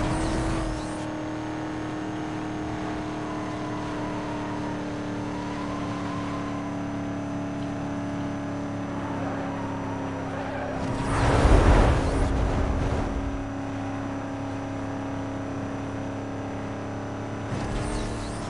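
A car accelerates in Need for Speed Most Wanted, a steady droning engine tone held at high speed, with a louder rushing surge partway through as something passes by.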